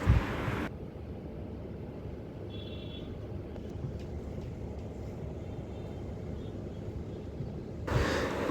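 Inside an air-conditioned electric city bus on Chennai route 54 from Broadway to Poonamallee, a low, steady road rumble and hum carries on throughout, with louder bursts at the start and end.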